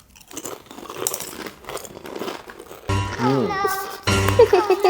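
Children bite into a crunchy Egyptian childhood snack, with a few close crunches amid excited children's voices and chatter.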